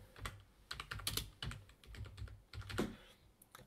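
Quiet, close computer keyboard typing of a search, with irregular quick key clicks in short bursts and small pauses between them.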